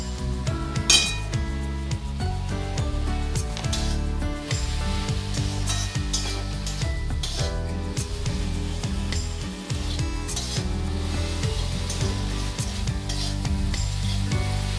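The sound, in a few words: frying jute leaves with turmeric and salt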